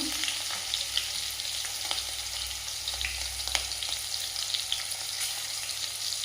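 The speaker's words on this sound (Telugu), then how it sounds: "మిర్చి కొద్దిసేపు ఫ్రై చేయాలి" Green chillies frying in hot oil with a pinch of turmeric, giving a steady close sizzle with faint crackles and occasional light stirring taps, no voices.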